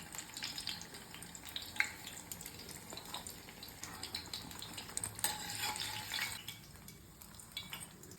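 Banana fritters (pazham pori) fry in shallow oil, a soft continuous sizzle with occasional clinks and stirring scrapes of a utensil in the pan.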